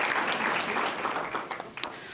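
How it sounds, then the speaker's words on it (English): An audience at a school district board meeting applauds fifth grader Quinn for track and field placings, giving a short burst of steady clapping that thins toward the end. "A round of applause for Quinn."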